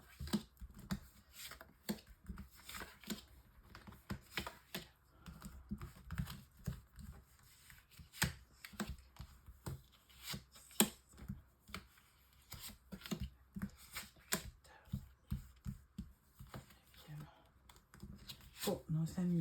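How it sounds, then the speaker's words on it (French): Cards are shuffled and dealt for a nine-card reading, giving quick papery flicks and soft taps in close, irregular bursts throughout, with talk mixed in. "Alors, tirage en 9 cartes."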